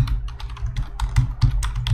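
Keystrokes on a computer keyboard as a keyword about a digital marketing course is entered, a quick irregular run of clicks and taps, close and fairly loud, with no talking.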